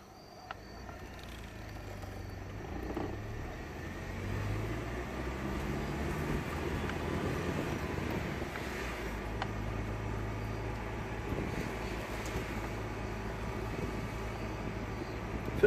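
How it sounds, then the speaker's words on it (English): A 1996 Ford Ranger on a test drive gives a low, steady engine and road hum from inside the cab, fairly quiet and continuous with slight rises and falls. "So I'm out taking it for a test drive."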